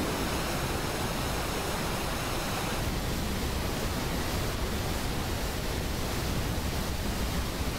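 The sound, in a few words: waterfall roaring in a Final Fantasy XII cutscene, from a video game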